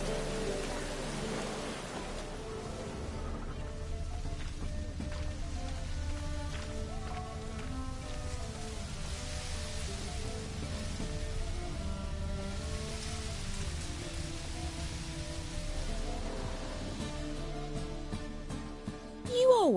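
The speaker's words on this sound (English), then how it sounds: "Raining again." Steady rain hisses throughout in The Witcher 3: Wild Hunt, with soft tonal background music running beneath it and no voices.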